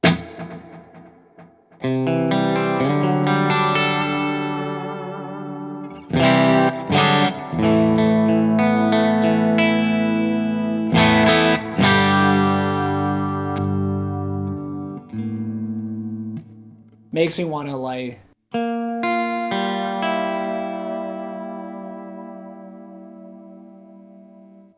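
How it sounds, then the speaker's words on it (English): An electric guitar rings out sustained chords through an ambient delay and reverb pedal preset set for many repeats, notes swelling and trailing off into washes of echo, loud and close, with a brief spoken remark near the end. "C on both of these I have set up for more of an ambient sort of thing. Tons of repeats."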